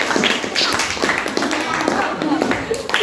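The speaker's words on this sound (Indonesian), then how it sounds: "Tepuk tangan lah dulu kawannya yang lain." Classmates in a school classroom clap together for a group presentation, a close, busy patter of hand claps mixed with voices and chatter.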